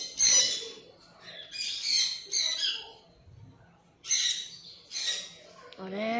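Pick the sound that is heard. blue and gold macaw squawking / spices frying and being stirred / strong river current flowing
blue and gold macaw squawking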